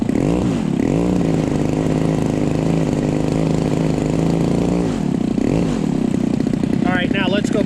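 A Seagull Models Gilmore Red Lion model airplane engine runs loud and close as a continuous buzzing drone. Its pitch dips briefly midway, then it revs up at the end, with a voice partly over it.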